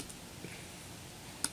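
Keys tap softly on a computer keyboard while values are entered into an MS Access accounting database, a few faint, quick clicks over a low room hiss with one slightly sharper keystroke near the end.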